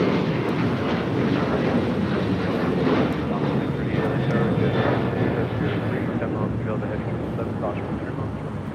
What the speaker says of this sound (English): A 737-900ER now rolling down to 25 right.